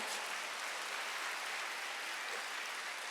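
Applause from a congregation during a Sunday church service, a steady dense wash of many hands clapping at a distance, soft and even throughout.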